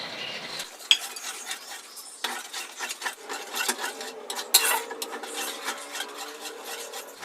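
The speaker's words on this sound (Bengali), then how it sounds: "মশলাগুলোকে ভালোভাবে কষে নিতে হবে" Spice masala for a Bengali rohu fish rezala being sautéed in a pan, a steady scraping and rasping of a spoon against the pan bottom with occasional sharper clinks, close and continuous without any voices.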